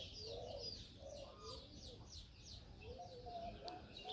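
Doves in a village yard near spilled rice grain give soft, distant coos, quiet and intermittent, while smaller birds chirp higher overhead.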